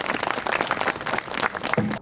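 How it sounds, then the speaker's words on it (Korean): Congratulatory applause from an audience at a memorial hall opening ceremony, a steady dense wash of clapping lasting the whole moment before cutting off. "다시 한번 축하의 박수 부탁드리겠습니다"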